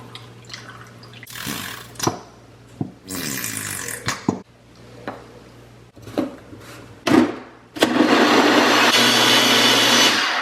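A countertop blender makes a smoothie with Greek yogurt: scattered clunks, thumps and pouring sounds give way to a loud, steady whirring roar that runs from about eight seconds to the end.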